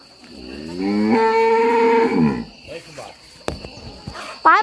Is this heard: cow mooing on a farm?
yes